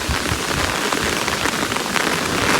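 Heavy tropical rain pouring down in the Maldives, a dense, steady hiss of drops drumming on surfaces with gusting wind, loud and unbroken throughout without voices.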